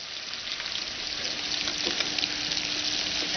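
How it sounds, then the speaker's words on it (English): Teriyaki sauce bubbling and boiling in a pan around hamburger steak patties makes a steady, dense hiss and sizzle at close range, rising slightly in intensity, with no talk. "When the sauce comes to a boil, return the patties to the pan."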